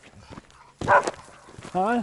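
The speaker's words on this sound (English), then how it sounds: "The dogs are barking at a deer." Dogs outdoors bark at a deer, giving one short bark and then a whining yelp, close by, with a person speaking around them.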